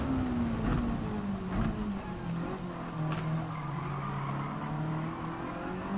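A race car in Gran Turismo 7 drones along in high gear while its tires squeal and skid continuously, the engine pitch sagging slightly and then holding steady, loud and close, with no talk.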